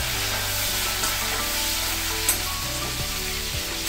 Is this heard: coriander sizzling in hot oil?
yes